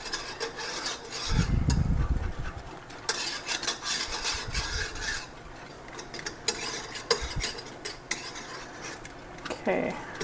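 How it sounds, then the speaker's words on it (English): Spoon scraping and stirring chocolate peanut butter pie filling in a pot, a series of irregular metallic scrapes and rubs against the pan, close and fairly loud, with brief pauses between strokes. "I like to make sure I'm stirring a lot in this process just so it doesn't burn"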